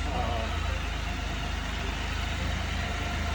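A Yamaha NMAX scooter engine runs steadily at close range, a continuous low hum with a constant idle-like drone throughout.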